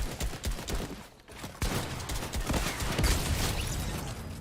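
Rocket explosions in Fortnite gameplay come as a burst of booming, crackling blasts, with a short gap before a denser run of impacts that stays fairly loud to the end.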